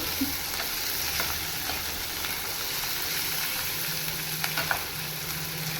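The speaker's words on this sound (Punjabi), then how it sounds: "ਕੱਟੇ ਹੋਏ ਪਿਆਜ਼ ਮੈਂ ਪਾ ਦਿੱਤੇ ਸੀਗੇ ਤੇ ਨਾਲ ਜਿਹੜੀਆਂ ਹਰੀਆਂ ਮਿਰਚਾਂ ਦੋ ਤਿੰਨ ਕੱਟੀਆਂ ਸੀ ਉਹ ਪਾ ਦਿੱਤੀਆਂ ਪਹਿਲਾਂ ਮੈਂ ਇਹਨਾਂ ਨੂੰ ਭੁੰਨ ਲਵਾਂਗੀ ਚੰਗੀ ਤਰ੍ਹਾਂ" Chopped onions and two or three green chillies frying in a pan, a soft steady sizzle with occasional stirring clicks and scrapes, fairly quiet and without speech.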